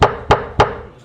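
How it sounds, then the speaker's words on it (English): Three sharp, evenly spaced hammer strikes, close and loud, each ringing briefly before the next, with no voices. "Or a hammer."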